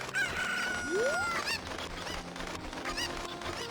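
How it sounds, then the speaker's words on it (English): Chickens cluck and honk in Zelda: Ocarina of Time, squawking over steady game music and ambience, with one rising, swooping cry standing out. "The sounds that these chickens make, they're like the clucking noise when you're holding them."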